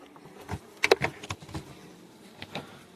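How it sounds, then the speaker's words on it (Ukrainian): Bees buzzing around a wild forest honey hive in Polesia, a faint humming bed with a few sharp close buzzes and knocks near the start. "бджоли вже кусаються. Вже нападають."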